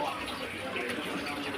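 Heavy rain falling and pooling on a hillside where goats graze, a steady, close hiss of water with a faint voice underneath.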